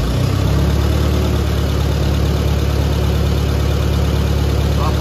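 A 1947 Allis-Chalmers B tractor engine with a 6-volt positive-ground system idles steadily nearby, a continuous loud low rumble with even mechanical vibration and no voices.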